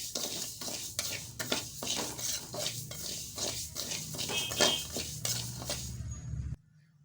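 Cumin seeds being roasted in a pan and stirred with a spoon, a rhythmic run of scraping strokes over a light sizzle that stops abruptly near the end, no talking.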